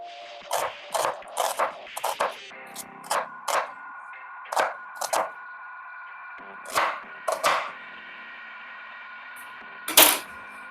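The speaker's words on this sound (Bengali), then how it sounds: "আমার পেঁয়াজ কাটা কমপ্লিট।" A knife chops onions on a board in a series of sharp, distinct taps at an irregular pace, sometimes in quick pairs, over a faint steady background hum, with no speech.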